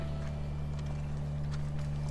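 A horse's hooves clip-clop at a steady walking rhythm in The Last of Us on PS4, quiet and continuous over a low ambient hum with no voices.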